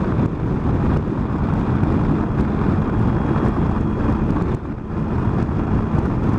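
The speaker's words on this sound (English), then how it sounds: "It's breezy down here." Wind roars across the microphone on a ride aboard a 2018 Triumph Tiger 800 XRT motorcycle, a dense, loud, continuous rushing buffet with one brief dip partway through.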